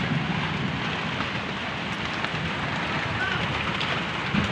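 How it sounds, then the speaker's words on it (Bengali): Heavy rain falls steadily in a broad, continuous hiss of drops on surfaces, fairly loud and unbroken from start to finish, with no clear voices over it. "অনেক বৃষ্টি পড়তেছে"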